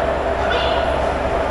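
Electric locomotive of the Swarnrekha Express idling at a station platform, a steady broadband hum and rumble with a faint higher whine, continuous and fairly close throughout.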